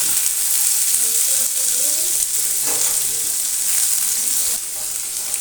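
Brinjal sautés in a pan for brinjal thokku rice, giving a steady, close, loud sizzle that runs unbroken with no voices.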